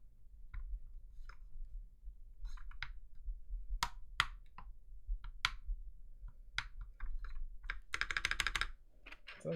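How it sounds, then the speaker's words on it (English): Typing on an FL-CMMK MK870 mechanical keyboard fitted with EnjoyPBT ABS doubleshot keycaps, crisp close keystrokes in irregular bursts, ending with a rapid flurry of clacks. "I'm excited to do the typing test"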